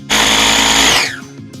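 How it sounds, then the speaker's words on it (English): A kitchen blender blitzes lemon zest with sugar in one loud, close, high whirring burst of about a second that then winds down, with no talk. "I'm going to blitz it because I want all the oils and all the flavors from the zest to incorporate with the sugar."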